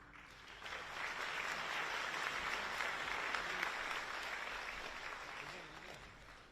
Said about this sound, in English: a round of applause for Satya Nadella, CEO and Chairman of Microsoft